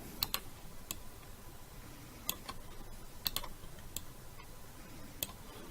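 Computer keyboard keys are pressed in sparse, irregular single taps, several sharp clicks spaced over a few seconds against a faint steady background, with no talking.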